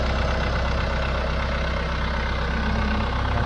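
Engine of a used Suzuki Carry GRV or Mitsubishi Fuso truck idling nearby, giving a steady, dense, low rumble that holds unchanged throughout.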